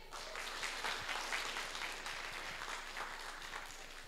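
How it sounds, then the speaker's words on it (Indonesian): An audience at a young entrepreneurs' event breaks into sustained applause, a dense, even clatter of many hands clapping that stays loud for the whole stretch. "Boleh tepuk tangannya dong semuanya?"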